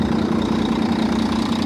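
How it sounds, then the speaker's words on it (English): A 2006 Volvo B12BT Van Hool Astrobel coach with a 12-litre Euro 3 Volvo engine idles close by, a loud, steady low diesel rumble with a slight knocking vibration and no voices. "we've got your big 12 litre Volvo engine, Euro 3 Volvo engine"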